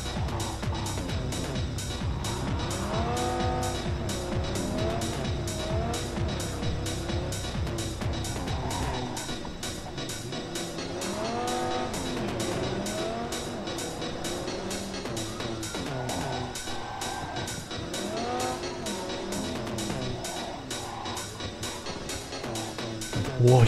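A motorcycle ridden in Cyberpunk 2077 gives a continuous engine drone whose pitch rises and falls with the throttle, steady and close throughout under game music.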